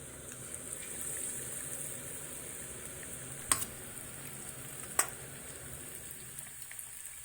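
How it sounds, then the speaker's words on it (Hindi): Chicken pieces fry in oil over a low flame, producing a soft, constant sizzle that stays faint throughout, broken by two distinct sharp pops a little over a second apart. "तो अब हम इसको करेंगे फ्राई 1 बाय 1 हम इसमें डालते जाएंगे।"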